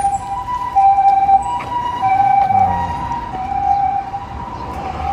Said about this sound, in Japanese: 救急車来てますね。